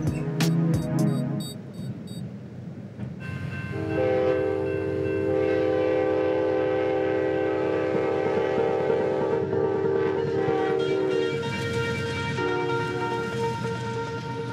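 A passenger train runs on rails with a steady, loud rumble and sustained whining tones, with a brief clatter at the start.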